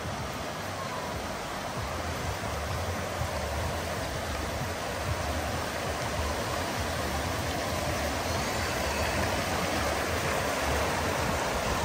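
The Azusa River in California rushes steadily past, a dense, unbroken roar of flowing water that stays loud and even throughout.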